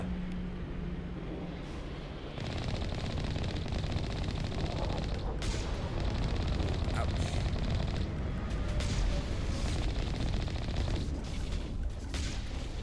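Rapid gunfire and cannon blasts from a vehicle in the Mass Effect 1 Legendary Edition video game, a dense continuous barrage of booms and shots over a rumbling engine hum.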